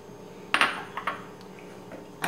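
Dough ingredients with oil and a heaped spoon of dry bread yeast stirred in a bowl for a Chinese pastel, a few close clinks of a utensil against the bowl over a quiet background.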